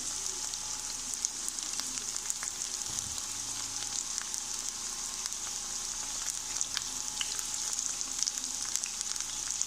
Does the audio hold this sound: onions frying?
yes